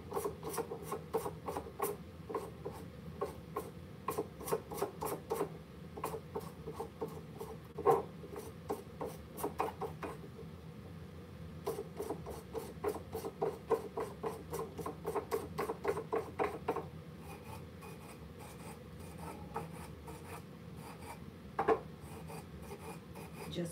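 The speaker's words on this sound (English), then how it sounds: "And you can sand over your IOD transfers." Sandpaper rasps steadily along the edges of an up-cycled wooden rolling pin, in repeated close scratchy strokes with brief pauses and no speech.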